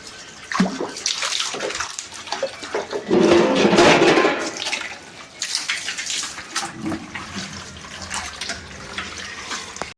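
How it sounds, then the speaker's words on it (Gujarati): Narmada water gushes from a pipe into a container on a farm, a strong rushing splash that swells, then settles into a steadier flow. "ઘણા દાડે પાણી આવીશ નર્મદાનું અને હું ભરું પાણી"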